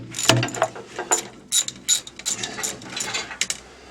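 Ratchet clicking in short irregular bursts while a mechanical front wheel drive is installed on a tractor, with sharp metallic pawl clicks and a few louder knocks, close and alone.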